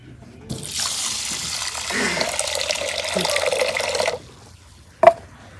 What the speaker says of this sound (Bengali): এই যে পানি দিলাম, এখন ভিজা রাখি।